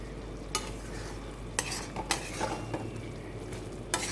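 Spoon stirring a tomato curry frying in a pan, with a steady low sizzle and several distinct scraping strokes against the metal spaced irregularly through the stretch; no voices.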